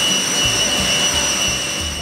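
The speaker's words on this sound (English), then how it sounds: "the planes get bigger" A loud, constant roar of a jet airplane engine, close and steady, with a thin high whine riding over the broad rushing noise.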